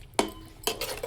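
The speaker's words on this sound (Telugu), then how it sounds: "ఇదంతా మంచిగా పెరుగంతా దాంట్లో గ్రేవీలో కలిపేంత వరకు మిక్స్ చేసుకుందాం." A metal spoon clinks and scrapes against a pot while yogurt is stirred into fish biryani gravy, a few distinct knocks followed by softer stirring scrapes, close and alone.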